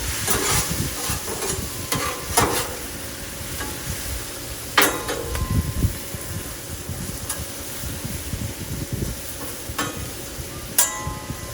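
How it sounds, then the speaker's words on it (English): Mushrooms sautéing in bacon grease on a Blackstone griddle, a close, steady sizzle broken by repeated scraping and stirring strokes of a spatula, with no talking. "mushrooms sauteed. A little bit of bacon grease."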